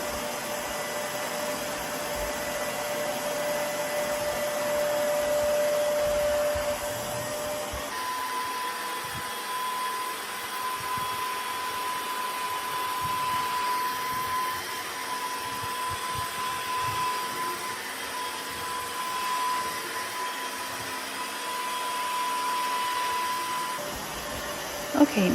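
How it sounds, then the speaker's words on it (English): A Shark CarpetXpert EX201 upright carpet and upholstery cleaner runs continuously while scrubbing a carpet stain and suctioning up solution, a steady loud motor whine with a pitch shift partway through and no talking. "I'm going to go slow at first so I can give it a chance to put the solution down and suck it up"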